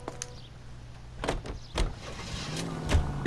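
Someone climbs into a car in L.A. Noire: a door opens and shuts with short thuds and clicks, followed by a low engine hum starting under quiet ambience.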